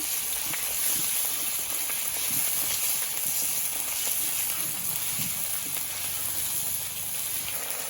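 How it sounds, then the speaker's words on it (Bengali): Garlic, ginger and cumin paste frying in a pan for biryani, a steady broad sizzle and hiss that holds at an even loudness throughout, with no talk. "আর দেবো রসুন বাটা, আদা বাটা, জিরে বাটা। এগুলো আমি ভালো করে কষিয়ে নেব।"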